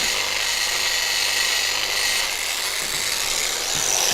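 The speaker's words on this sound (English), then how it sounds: "Polishing compound." A power tool runs at low speed, polishing with polishing compound, giving a steady, loud, close hiss and whirr that continues without a break and with no talking over it.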